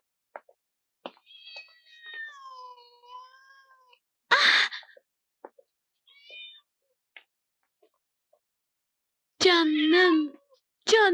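A cat meows repeatedly in a quiet indoor setting, with drawn-out, wavering cries separated by pauses and a couple of louder, harsher meows later on, with no talk over them.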